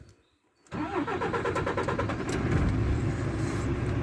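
A truck engine, a heavily loaded rig with a trailer, rumbles to life after a brief silence and then holds a steady, deep mid-range drone as it creeps a metre forward, close and continuous with no talk.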